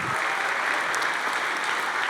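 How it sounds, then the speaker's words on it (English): Audience applause at a benefit gala fundraising auction, a dense steady clatter of many hands clapping from start to finish, filling the room evenly without pause. "A big round of applause."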